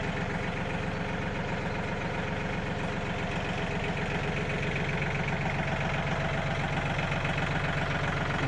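A Yanmar 39 hp tractor in good condition idles steadily nearby, a constant low rumble with rhythmic mechanical knocking and no one talking.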